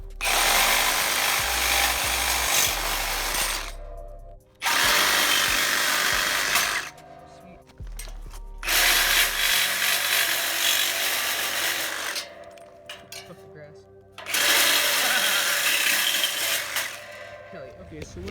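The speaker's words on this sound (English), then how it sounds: "cut this piece out with the grinder" An angle grinder cuts a metal roof rack piece for a Scion in loud, sustained bursts, with several short pauses between cuts.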